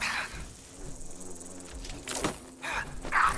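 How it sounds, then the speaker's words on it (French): Mosquitoes buzz in the video game Fallout 4, a whining insect drone that swells and fades in several bursts over a few seconds at moderate loudness. "Il y a bien trop de moustiques à mon goût."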